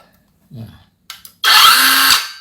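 A brief high-pitched whine from a cordless OSUKA circular saw on its fastest of three speed settings kicks in after a couple of soft clicks, running loud for under a second before winding down.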